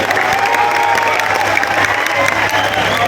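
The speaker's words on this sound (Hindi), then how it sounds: "आप जोरदार तालियों बजाकर स्वागत करने का काम कीजिए।" A rally crowd in Jhanjharpur, Mithila, claps loudly to welcome Amit Shah, with dense sustained applause and some cheering mixed in, near and full throughout.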